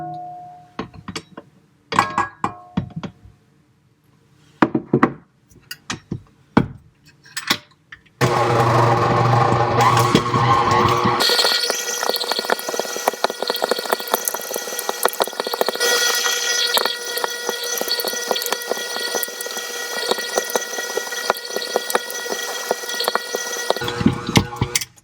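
A stand mixer works butter into dough after several short bursts and clatters, then runs loudly and continuously with a steady mechanical whir and rattle.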